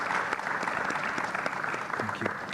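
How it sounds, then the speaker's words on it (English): An audience at an AI strategy masterclass panel applauds the panelists, a brief, moderately distant round of clapping filling the room with steady patter. "I'll ask applause to my panelists."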